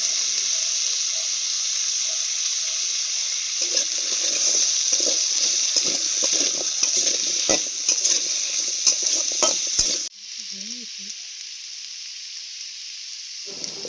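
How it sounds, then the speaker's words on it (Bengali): Cut potatoes fry in hot oil, a steady sizzle broken by scraping stirs for about ten seconds, then the frying drops to a quieter hiss with a brief faint noise. "এবার এই তেলে কেটে রাখা আলুগুলোকে ভাজতে"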